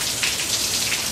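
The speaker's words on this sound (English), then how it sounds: "We're all sitting outside watching the rain." Steady rain pattering on a surface, a continuous hiss of drops with no pauses, fairly close and even in level.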